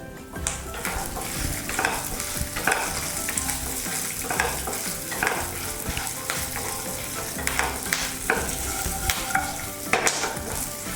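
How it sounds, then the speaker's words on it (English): Garlic cloves and browning chana dal fry in a pan, a steady sizzle with repeated stirring scrapes and light utensil knocks throughout, close and fairly loud with no talking. "Once the chana dal is turning into brown, add garlic, 4 to 5 cloves of garlic"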